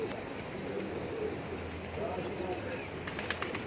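Pigeons cooing on a rooftop loft where pigeon fanciers keep birds, soft repeated coos under steady outdoor background noise, with people talking nearby.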